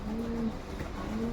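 Pigeons coo close by in soft, low, throaty rolling calls, repeated under light outdoor background noise.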